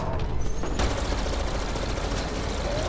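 A minigun fires in a dense, unbroken roar of rapid shots during a Mass Effect Andromeda firefight, loud and close with no pauses.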